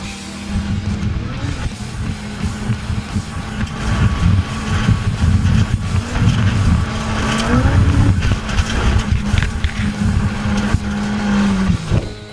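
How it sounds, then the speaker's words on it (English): A professional rally car tears along an extremely rough road, engine roaring loud and steady from an onboard view, with pitch rising and falling through gear changes, tyre noise and rattling over bumps throughout. "this is what a professional rally driver race looks like in first person"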